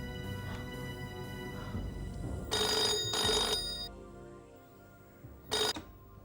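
A telephone rings in a few separate electronic bursts over a low hum in a quiet room, moderately loud, with nobody speaking.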